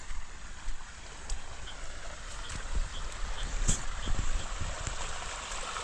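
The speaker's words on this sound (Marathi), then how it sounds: "हे बघा पाणी वाहतच चालू आहे" Heavy rainwater flows past in a continuous, fairly loud rushing gurgle, close by and steady throughout, with some wind-like broadband noise and no talking.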